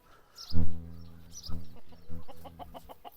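Rural chickens beside a farm cattle shed give several clucks and crowing-like calls, nearby and fairly loud, in short bursts with brief gaps between them.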